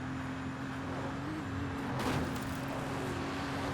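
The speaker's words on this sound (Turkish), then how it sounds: "Tamam hızlanmasına izin vereceğim birazcık arabanın." A car engine in Forza Horizon drones steadily in a high gear, a sustained hum that swells slightly around the middle as it slowly gains speed, with no talk over it.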